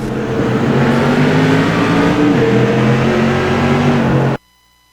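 Outlaw modified race cars in a video game racing league revving and accelerating together on a restart at Langley, a loud dense engine drone with rising pitch that holds steady, then cuts off abruptly.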